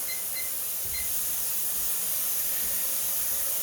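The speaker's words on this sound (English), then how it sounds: "she's starting to steam now" Steady, loud hissing of steam venting under pressure from a pressure canner, continuous and unbroken, with faint high whistling tones mixed in.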